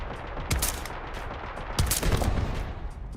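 Gunshots fire at an enemy turret in Starfield, with several sharp, loud blasts coming in two clusters, near the start and again midway, over a steady low in-game background rumble.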